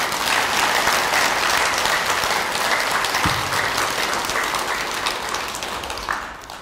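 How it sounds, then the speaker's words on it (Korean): An audience at a Buddhist Saturday dharma service claps in sustained, even applause, loud at first and gradually tapering off toward the end. "우리 광덕 큰 스님한테 박수 한번 칠까요?"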